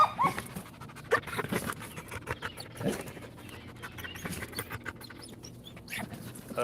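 Apollo, a Belgian Malinois, pants in quick, soft breaths close by, with a few faint whimpers and small yips mixed in, fairly quiet overall with no talking.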